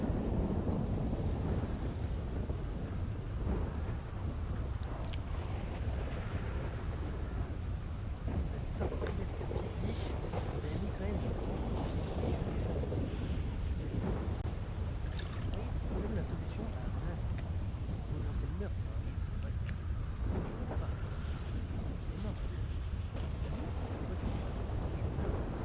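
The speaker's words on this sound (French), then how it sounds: "J'entends rien avec la pluie." Rain and rolling thunder in a video game, a dense steady downpour with low rumbles throughout, loud and continuous, with faint voices talking underneath.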